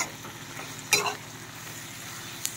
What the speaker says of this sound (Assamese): এয়া মাংসখিনি ধুনীয়াকৈ ভাজি লওঁ।